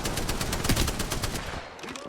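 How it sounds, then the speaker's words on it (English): Rapid automatic gunfire rattles in an Apex Legends ranked match, a fast, evenly spaced string of shots that thins out near the end. "Getting shot at."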